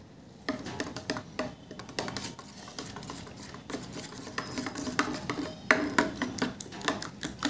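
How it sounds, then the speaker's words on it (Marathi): A filling of ginger, garlic and green chilli paste is whisked in a bowl, giving quick, uneven clicks and scrapes of utensil against the bowl that build slightly louder toward the end, with no voices. "आणि छान फेटून घ्यायचं आहे"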